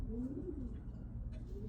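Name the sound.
pigeons cooing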